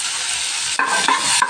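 Vegetables, tomato, ginger and garlic sizzle in a hot pan for green gram curry, a close steady frying hiss broken by a few quick scraping stirs.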